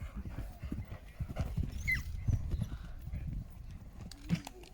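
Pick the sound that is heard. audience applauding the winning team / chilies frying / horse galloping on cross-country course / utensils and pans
horse galloping on cross-country course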